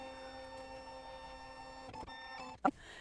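A Baby Lock Solaris embroidery machine scans hooped fabric for an in-the-hoop quilting project, giving a steady, fairly quiet mechanical hum with a few soft clicks and a sharp clunk near the end.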